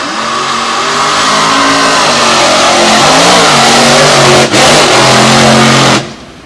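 A loud drag racing truck engine revs hard and steady, pitch rising and dipping over several seconds, then cuts off abruptly near the end.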